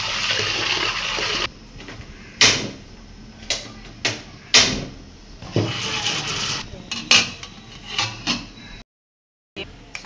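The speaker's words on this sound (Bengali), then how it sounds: "মা চাল ধুয়ে নিচ্ছে এখন।" Rice is washed in water by hand, with repeated splashing and sloshing swishes in irregular bursts, fairly close, over a steady background hiss, ending in a brief silent gap.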